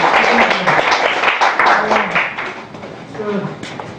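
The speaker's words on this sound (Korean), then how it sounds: "박수 한번 주세요" A small audience claps after a presentation, with a burst of scattered hand claps that fades, and a voice speaking over the end of it.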